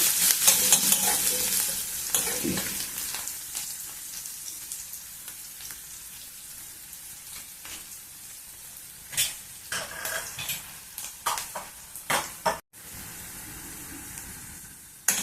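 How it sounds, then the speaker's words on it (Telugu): Finely chopped onions and green chillies frying in a pan for an amla dal, a steady sizzle with scraping stirs that grow sharper and more intermittent toward the end, heard alone without talk. "ఉల్లిగడ్డలు కూడా వేగిపోయినాయి."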